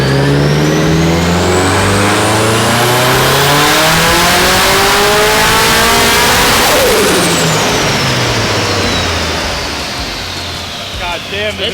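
A car engine revs hard on a dynamometer run, a loud sustained roar whose harmonics climb steadily for about seven seconds, then drop as it winds down, with voices speaking under the noise.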